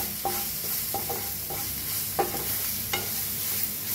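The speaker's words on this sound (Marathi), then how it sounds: "आता ह्याच्यात टाकूया आपण हळद 1 चमचा, छान असं मिक्स करूया।" A spoon scrapes and stirs turmeric into a gently sizzling onion mixture in a pan for vada pav potato filling, giving several distinct stirring clicks over a steady low fry.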